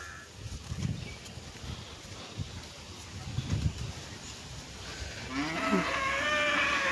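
Cow on a rural farm during rainy weather, lowing in two or three drawn-out moos at moderate distance, with birds chirping faintly and some background noise toward the end.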